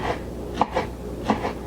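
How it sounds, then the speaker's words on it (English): Knife chopping vegetables on a cutting board for a quinoa porridge with spirulina, goji berries and coconut flakes, heard as two sharp close thuds spaced apart over a quiet kitchen background. "So we are basically just chopping and putting everything here."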